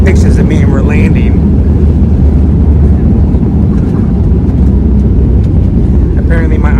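A passenger airplane landing, heard from inside the cabin in Topsail, North Carolina, as a loud, steady low engine and wind roar that continues throughout, with brief voices near the start and end.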